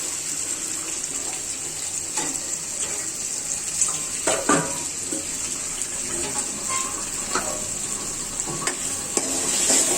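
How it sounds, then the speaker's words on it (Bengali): Ginger, garlic and onion paste fries in a pan with a steady, close hiss and sizzle, broken by scattered clinks and scrapes of stirring throughout; nobody talks. "আর এগুলো সব ভেজে নিব ভালো করে"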